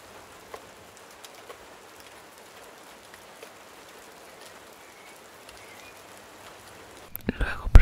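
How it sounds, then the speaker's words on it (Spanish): Heavy rain falls steadily and softly outside an abandoned barn in the Cotswolds, a constant faint hiss with a few light drips, before nearby rustling handling noises close it out. "Porque está lloviendo muchísimo."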